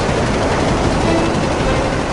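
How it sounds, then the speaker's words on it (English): A short burst of 30-millimeter aircraft cannon fire in a military jet dogfight, a loud, dense, continuous rattle filling the whole moment with no voices. "A short burst of 30-millimeter cannon fire."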